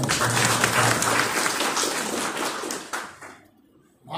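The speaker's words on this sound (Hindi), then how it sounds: "जोरदार तालियों।" Loud applause from an audience at a felicitation ceremony rolls on in a thick burst of clapping, then fades away over the final second.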